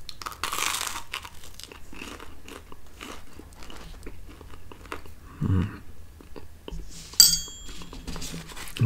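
Someone bites and chews a toasted Thomas' cinnamon raisin bagel up close: soft, repeated crunches and mouth sounds, with a few light clinks of dishes in a quiet room.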